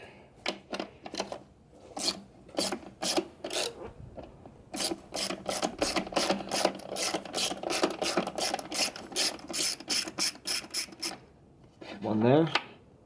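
A hand ratchet clicks in quick, regular bursts while loosening screws on a Jeep Wrangler 3.6L engine, close and crisp, with a short pause midway and a brief voice at the end.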